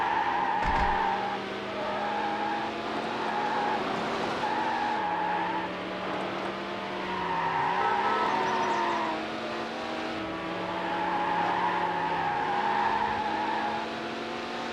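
Ferrari race cars roar through a championship event in Need For Speed Hot Pursuit 2, engines droning steadily with pitch rising and dropping at gear shifts, plus tire squeal and the whine of nearby rival cars.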